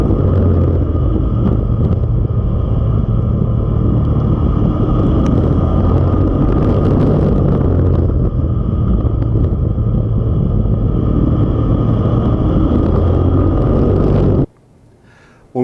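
An IMCA modified oval race car engine roars loudly and continuously with a rough, rumbling tone for about fourteen seconds, then cuts off abruptly.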